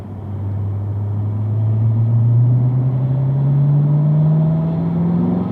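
A car accelerates out of a corner on a race track at a driving school, its engine note rising steadily from a low rumble to a higher pitch, close and loud throughout.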